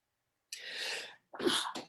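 A single sharp sneeze up close: a breathy intake followed by a burst, then silence.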